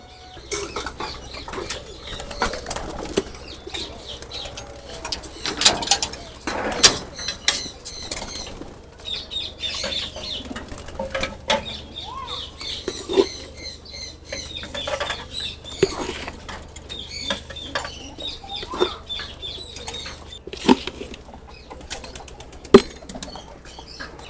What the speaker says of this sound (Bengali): কবুতর এখনও সব ঢুকে নেই কিছু কবুতর বাইরে আছে